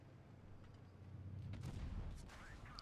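A tank cannon fires in a video game: a single heavy boom with a low rumbling tail, fairly faint, set against steady low engine drone.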